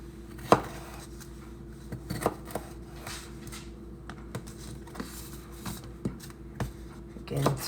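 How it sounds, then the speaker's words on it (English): Knife cutting bell peppers into thin strips on a board, irregular soft taps and slicing clicks, faint and close, with quiet room noise between cuts. "So now you can cut your peppers into little thin strips if you want."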